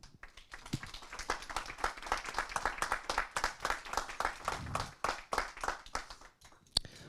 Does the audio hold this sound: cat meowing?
no